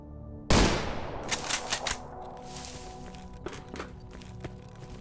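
Gunfire from S.T.A.L.K.E.R. Anomaly: a sharp loud shot opens, then a scattered burst of quicker, softer shots and thuds follows, trailing off into a few faint distant pops.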